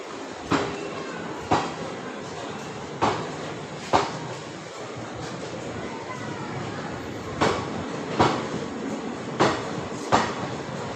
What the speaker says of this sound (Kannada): ಟ್ರೈನ್ ಬಂದಿದೆ.